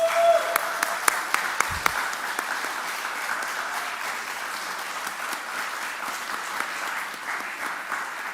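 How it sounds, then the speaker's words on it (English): Audience applause at a youth forum, steady dense clapping from a crowd that holds at an even level throughout, with a few sharper claps near the start. "Please give them a round of applause."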